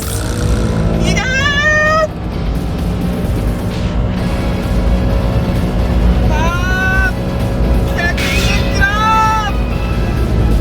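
A Honda N-BOX kei car drones at full throttle with a steady engine and road roar inside the cabin, while a voice calls out over it several times.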